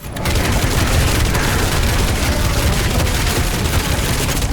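A shotgun in a first-person shooter fires in full auto, the rapid blasts running together into a dense, loud, booming roar that lasts the whole stretch, with no voices.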